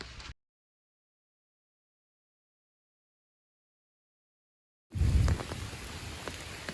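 Rain falling along the Appalachian Trail, a steady broadband patter that cuts in suddenly after a long stretch of silence and continues with scattered sharper drops.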